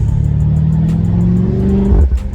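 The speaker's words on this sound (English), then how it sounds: "I really want that exhaust on, so when I gear down, I can hear it shift" A BMW M8 Cabriolet engine drones loudly, its pitch climbing steadily before dropping sharply as the gear changes down, with a brief exhaust burble at the end.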